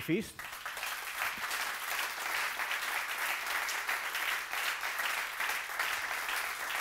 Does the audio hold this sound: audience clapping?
yes